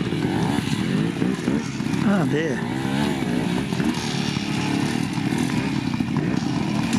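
Trials motorcycle engine revving as a rider tackles a section at a club trial, a steady buzzing drone with rising and falling pitch sweeps, close and loud, while a voice speaks briefly over it.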